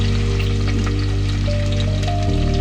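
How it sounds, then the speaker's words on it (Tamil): Curry leaves, garlic and slit green chillies sizzle and fry steadily in oil in a pan for a brinjal kadayal, a continuous close hiss with steady bubbling and no talk. "இதெல்லாம் நல்லா கோல்டன் ப்ரௌன் ஆகிற அளவுக்கு நல்லா வதக்கிக்கலாம்."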